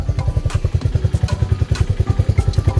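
Lifan KP Mini 223 motorcycle with an OHC 165FMM engine idling on its own, a steady, loud, close thumping putter with even pulses and light mechanical clatter, no revving.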